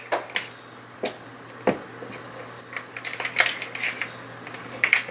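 Pizza dough preferment being mixed in a bowl gives sparse clicks and soft scraping taps at first, then denser wet knocking and scraping against the bowl, close and fairly quiet.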